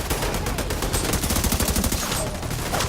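Sustained rapid automatic gunfire from The Division 2 shooter game, dense and loud bursts rattling continuously with no pauses and no voices.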